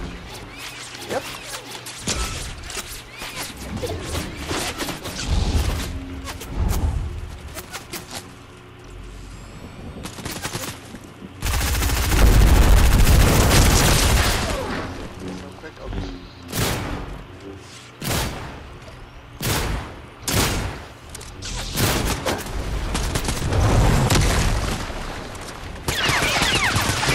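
Gunfire from a shooter video game comes in bursts of sharp rapid shots and a long, heavy roaring volley near the middle. Voices speak in between the bursts.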